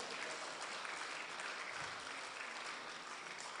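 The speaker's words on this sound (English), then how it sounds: "Give a clap offering to the Lord." A church congregation gives a clap offering to the Lord: dense, sustained applause from many hands, steady and fairly loud throughout, with no voice rising above it.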